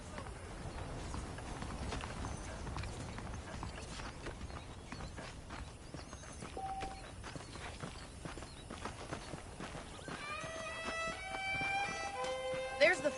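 Horse hooves clip-clop steadily on the ground in the Red Dead Redemption video game, a continuous trotting rhythm at moderate distance, with brief tonal musical notes entering toward the end.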